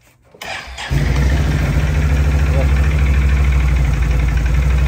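An ATV engine cranks briefly, catches and settles into a loud, steady low rumble at close range, with no talk over it.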